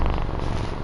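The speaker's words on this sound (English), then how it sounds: "Do you guys hear her purring?" A cat purring in a steady, soft rhythmic rumble close to the microphone, heard alone without talk.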